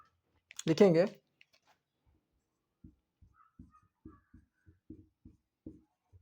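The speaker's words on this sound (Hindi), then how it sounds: "अभी हम लिखेंगे" Writing on a board during a physics class, a series of short dry chalk-like taps and strokes in an irregular rhythm, coming after a brief spoken word.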